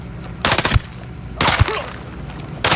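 Bursts of automatic gunfire in the video game Ghost Recon Breakpoint, three loud volleys of rapid shots separated by short pauses, close and dominant with no talk over them.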